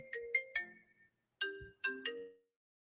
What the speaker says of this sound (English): I had to answer an important phone call there